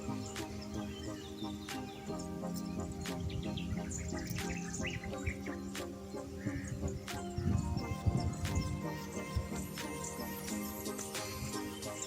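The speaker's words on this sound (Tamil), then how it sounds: "இங்கே குருவிகள் சத்தெல்லாம் பார்த்தீங்கன்னா மைனூட்டாக நம்ம ஃபீல் பண்ண முடியும்" Sparrows chirp in a quiet village garden: scattered short tweets and calls over a soft, steady outdoor backdrop, fairly faint and distant, with no clear talk.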